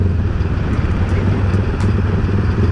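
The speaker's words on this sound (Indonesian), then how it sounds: "Motornya ngewel-ngewel" A motorcycle engine fitted with a freshly tuned mini carburetor runs close by with a loud, steady, rough drone throughout, without clear separate revs.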